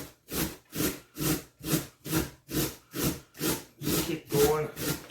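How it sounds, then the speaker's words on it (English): Potatoes are rubbed against a grater set in a bowl in steady back-and-forth strokes, about ten even rasping scrapes at roughly two per second, close and clear. "I'm just going to grate these potatoes down."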